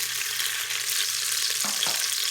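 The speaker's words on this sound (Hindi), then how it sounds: "अब हम एक दरमियाने साइज का प्याज ले लिया था, इसको डालेंगे।" Medium onion hisses in hot oil in a pan, a steady bright sizzle with a couple of brief stirring scrapes near the end.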